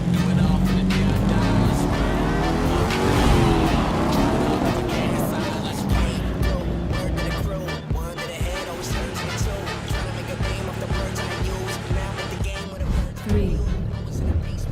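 A race car in the video game The Crew 2 drives with a loud, continuous engine roar that rises and shifts in pitch, overlaid by music and game sounds.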